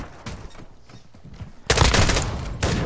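Video game gunfire: scattered shots at first, then a loud, sustained automatic volley erupts and keeps hammering to the end.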